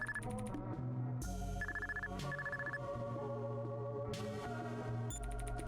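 A telephone rings in a visual novel game, repeated electronic trills at the start and again at the end, layered over steady tonal background music.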